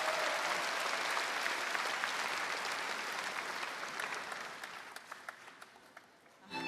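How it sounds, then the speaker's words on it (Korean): Sustained audience applause at a Korean national Liberation Day ceremony, a dense steady wash of clapping that gradually thins and fades toward the end, with a few louder individual claps. "한번 큰 박수를 부탁드리겠습니다."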